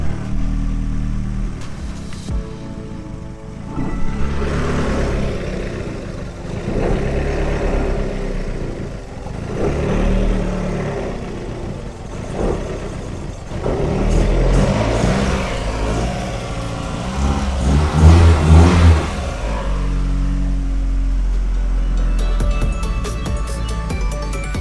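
Car engine started and run after a VVT repair, a loud, rough, fluctuating rumble with uneven revving surges and clattering under it, running steadily before it cuts off near the end, no talking.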